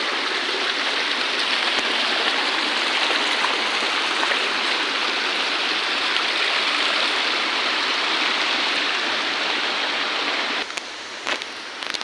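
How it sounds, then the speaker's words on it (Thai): A strong mountain stream rushes through a rocky gorge between cliffs, a loud, steady, unbroken wash of flowing water with no voices. "น้ำเป็นสายน้ำที่ธรรมชาติที่สวยงามเลยน้ำแรงมาก"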